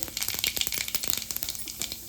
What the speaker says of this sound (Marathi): आता आपण फोडणी देऊया। तर इथे 1 चमचा जिरं घालते।